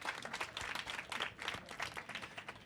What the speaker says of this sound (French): Je vous prie de l'applaudir très fort.